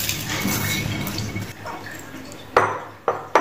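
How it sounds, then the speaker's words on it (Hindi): Dry mung beans pour and rattle into a metal pressure cooker, followed by a few sharp clinks of metal on metal, close by. "मैं सब मूंग को इसमें डालूंगी।"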